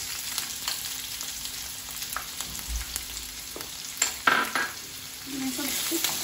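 Onion frying with green chilli in a pan of oil for Indian-style macaroni, a steady close sizzle with stirring scrapes and a few louder bursts near the end, no voices.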